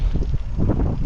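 Strong wind buffets the microphone during a bike tour through Infanta and Real, Quezon, a loud continuous roar with gusty rumbling and no break.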